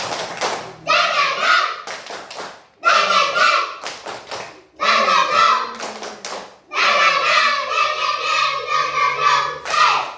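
Children at an Indonesian school lesson chanting together in a rhythmic clapping routine, with bursts of sharp claps and taps interleaved with their chanting voices in short repeated phrases, broken by brief pauses.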